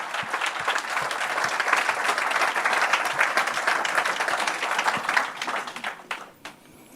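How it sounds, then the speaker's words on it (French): A church congregation gives a sustained round of applause, dense and loud with many hands, fading out over the last second or so. "can give a round of applause to the Lord"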